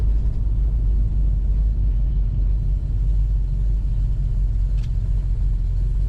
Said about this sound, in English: Today we're driving a 1966 Ford Mustang.